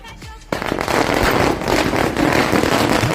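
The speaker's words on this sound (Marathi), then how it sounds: "फटाका लावतोय." A string of firecrackers at a wedding procession, starting abruptly and crackling in rapid, dense bursts for a few seconds, loud and close.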